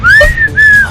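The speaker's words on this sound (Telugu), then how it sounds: "విజిల్ సౌండ్ వస్తుంది." A loud, close whistle sounds two sustained high notes in quick succession, the first slightly rising, with a brief gap between them.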